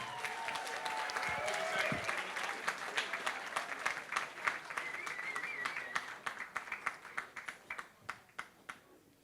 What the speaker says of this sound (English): Can I have a special round of applause for Jim and Loretta, ladies and gentlemen.